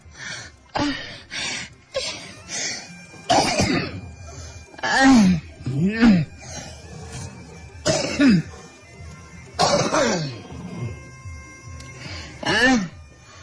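Someone coughs and clears their throat repeatedly in uneven bursts, with gasping breaths and strained vocal sounds between them, close and fairly loud.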